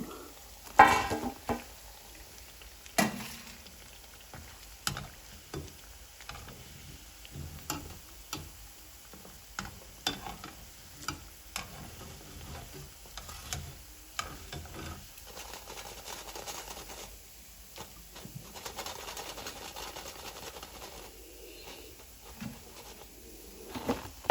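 Parippu vada, spiced lentil fritters, frying in hot oil: a quiet, steady sizzle broken by irregular ticks and pops, with occasional louder clinks from stirring or lifting the fritters.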